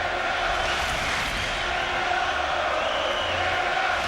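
Hockey crowd at Boston Garden during a 1991 Whalers at Bruins game, a broad, steady roar of cheering spectators filling the arena, continuous and moderately loud.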